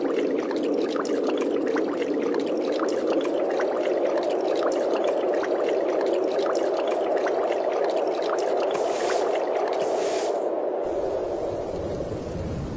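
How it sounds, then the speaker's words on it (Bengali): Steady rain hisses and patters throughout a cartoon scene of a poor fisherman on a river in a broken boat, a dense even wash that thins slightly near the end, with no voices. "এই রে, বলতে না বলতে দেখছি বৃষ্টি চলে এসেছে।"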